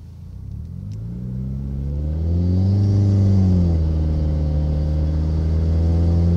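Engine of a Subaru WRX with a CVT transmission in stepped mode, heard from inside as it accelerates: a loud steady drone whose pitch climbs, drops back as it shifts, then climbs again, with no talk over it.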